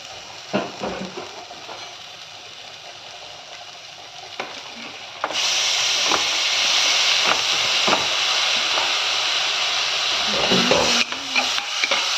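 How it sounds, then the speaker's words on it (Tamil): Chopped tomatoes for a moong dal kurma hit a hot pan and sizzle loudly, a steady hiss that jumps up partway through with occasional stirring scrapes, close and continuous without talk. "நான் தக்காளியை வந்து வதக்குறேன்."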